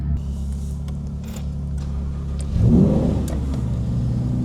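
Supercar engine idling while warming up behind a Ferrari, a steady deep rumble that swells into a louder rev about midway, then settles to a raised idle, no talking.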